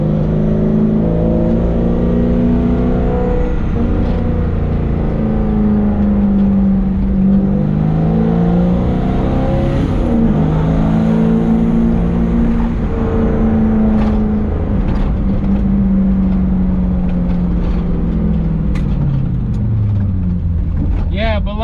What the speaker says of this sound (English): That gives us time to shift our gears and bring those RPMs up.